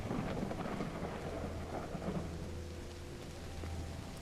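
Steady rain pours with a deep rolling rumble of thunder underneath in the video game Find Matt's Cats, a constant close wash of rainfall with no voices.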